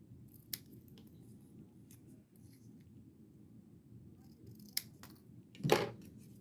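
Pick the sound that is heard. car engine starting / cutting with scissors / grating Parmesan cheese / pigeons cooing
cutting with scissors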